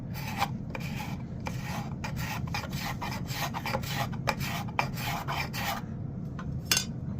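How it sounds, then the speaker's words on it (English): Curved scraper rasping across knotty wood while carving a spoon, a long series of quick rough strokes in an even rhythm that stops near the end with one last stroke. "I'm just using this curved scraper here."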